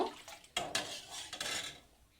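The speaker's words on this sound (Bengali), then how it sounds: "এদিকে আমি একটা কড়াই বসিয়ে দিয়েছি উনুনে।" A metal kadai is set down on a kitchen stove for sabu payesh, giving a few close, sharp clanks and scrapes of pan against burner, with no voices.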